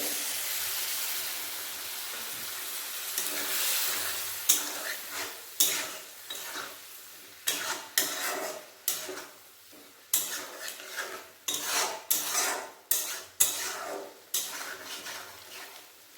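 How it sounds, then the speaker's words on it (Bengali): Water poured into a pan of vegetarian potol (pointed gourd) curry, followed by clinks and scrapes of a utensil against the pan over a steady cooking hiss, with sharp irregular knocks recurring through the second half. "এর মধ্যে দিয়ে দেব জল"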